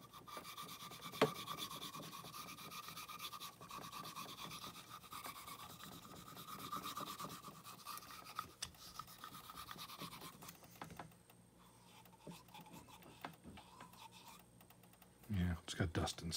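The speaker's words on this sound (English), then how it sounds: "Now I'm gonna go on the inside using my sanding stick as a pusher, kind of wrap a little bit of steel wool around it" Steel wool wrapped around a sanding stick rubs inside a saxophone mouthpiece shank extension, giving a steady close scratchy rasp that runs on and then thins out, with a couple of sharper knocks near the end.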